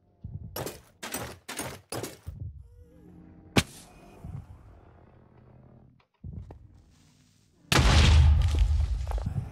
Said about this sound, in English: A point-blank explosion of a charged creeper deals 85 damage, and so does an end crystal.